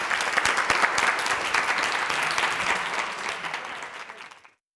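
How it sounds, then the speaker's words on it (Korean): Studio audience applauding two professors after a broadcast panel talk on systems biology and big data, a dense steady clapping that fades out at the end, with no talking over it. "우리 같이 해주신, 또 발표해주신 두 교수님께 크게 박수 부탁드리도록 하겠습니다."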